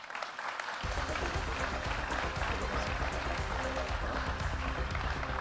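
Audience applause at a French retail business conference as the CIO of Orchestra is welcomed on stage, starting abruptly after a quiet moment and continuing as steady, dense clapping from a large crowd.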